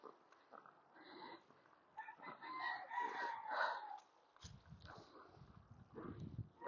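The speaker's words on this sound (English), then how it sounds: "We tried to move away from the chicken" Chickens cluck nearby and a rooster crows through the middle, followed by low rustling and grunting noises, during horse training.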